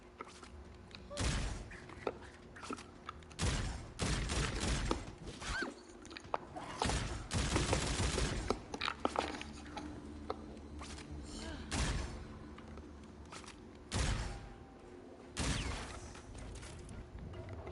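Assault rifle gunfire in a video game, coming as scattered sharp bursts and single loud cracks amid clattering mechanical action and background game noise, fairly close, with stretches of quieter ambience between volleys.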